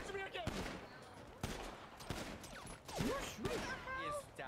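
Gunfire in GTA V NoPixel roleplay cracks in several sharp separate bursts over a quieter background, with a voice briefly heard between the shots.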